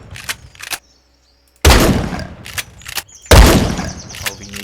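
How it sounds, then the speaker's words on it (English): Shotgun in a student-made video game firing spread pellets: two loud, sharp blasts about two seconds apart, each trailing off with a ringing tail, with short clicks and mechanical handling sounds in between. "the shotgun will fire multiple pellets at once"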